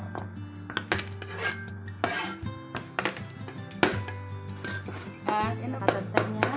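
Garlic is crushed in a kitchen with sharp, irregular knocks and clinks of metal and utensils against a hard surface, close and loud, with a low steady hum beneath.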